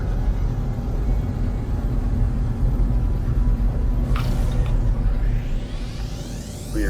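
A spaceship's warp drive in No Man's Sky gives a sustained deep rumble that builds to a rising whooshing sweep partway through, loud and continuous with no talking.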